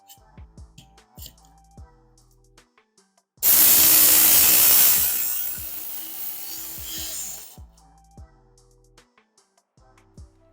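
A knife is sharpened on a powered belt sharpener, a loud close abrasive grinding that lasts about four seconds and fades as it ends, set among sparse quiet taps and handling clicks.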